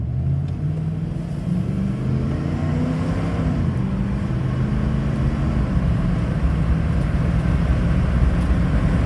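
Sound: car accelerating at half throttle after valve body remap

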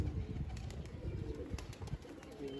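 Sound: black pigeon

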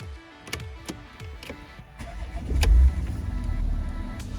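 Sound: Porsche Cayenne engine running

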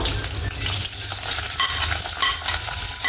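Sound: onion frying and being stirred in hot oil

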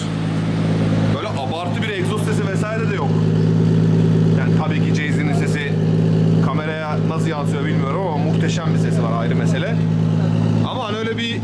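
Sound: 2JZ-swapped BMW E46 wagon engine running

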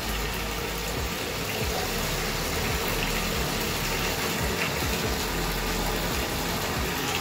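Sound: bath water running from the tap

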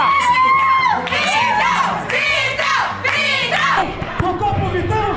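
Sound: crowd of supporters shouting at a football match

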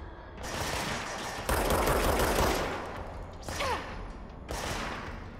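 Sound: gunfire from enemies in video game Control

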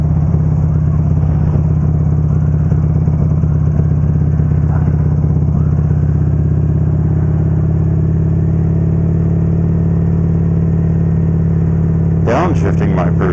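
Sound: Buell motorcycle engine during a gear change

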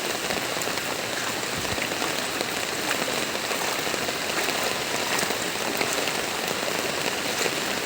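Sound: rain falling

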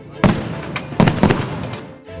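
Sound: artillery salute fireworks at Kronstadt city day celebration

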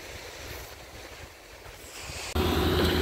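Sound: sea waves

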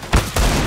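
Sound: gunfire from the video game Counter-Strike: Global Offensive

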